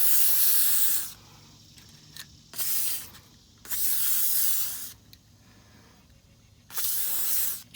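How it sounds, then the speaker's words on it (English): Four loud bursts of aerosol 3-in-One lubricant sprayed onto an RV slide track, each a second or so long, separated by quiet gaps with faint outdoor background. "spraying up on this track"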